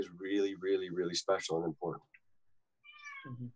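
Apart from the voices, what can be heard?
cat meowing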